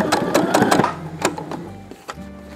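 A sewing machine stitching a fabric face mask runs in short bursts of rapid mechanical clatter, fairly close and loud, then slows and stops.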